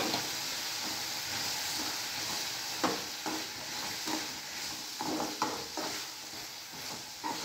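Snake gourd sautéed with onion and tomato in a pan, a steady soft sizzle with occasional stirring scrapes and clicks, fairly quiet and without voices.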